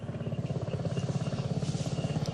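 A helicopter's rotor chops rapidly and steadily nearby, a continuous pulsing thud with engine whine beneath, in a war-zone setting in Rhodesia in 1979.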